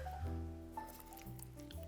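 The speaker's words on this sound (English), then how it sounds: "Now I just squeeze my lime without the seeds" A lime is squeezed by hand over ceviche, giving quiet wet squishing and a few faint drips at close range, low in level against a soft background hum.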